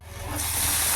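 Chopped onion and green chilli frying in oil in a pan, a steady close sizzling hiss that builds and grows louder within the second.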